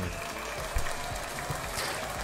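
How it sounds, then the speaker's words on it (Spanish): Steady applause from a group fills the air, a dense patter of clapping that stays even throughout with no pause. "Que se siente el aplauso."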